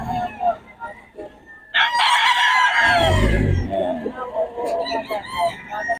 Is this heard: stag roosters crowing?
yes